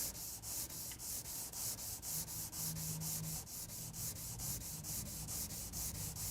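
A mini Scratch-B-Gone tool rubbed back and forth with Ultra Shine polish over a small scratched surface, producing a steady, close, rhythmic abrasive swishing that repeats evenly throughout without speech.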